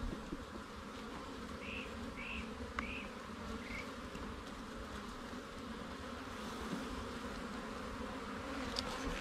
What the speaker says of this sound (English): There's so many bees in here